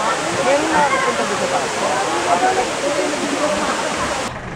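Daranak Falls waterfall, a loud, continuous rushing roar of falling water with voices talking over it, cutting off abruptly at the end.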